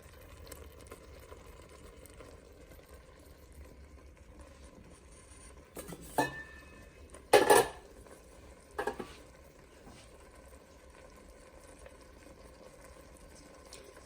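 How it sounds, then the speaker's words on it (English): A pot of white bean chicken chili simmers quietly with a faint, steady hiss, broken by a few brief clinks and taps in the middle. "And it is starting to simmer."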